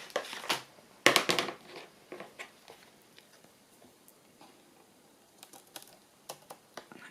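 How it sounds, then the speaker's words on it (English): Scissors trimming a paper tag for a handmade sewing journal, a burst of crisp cuts and crinkling early on, then sparse light snips and taps, close and quiet with no talking. "that's just a touch too long, so I'm just going to trim that"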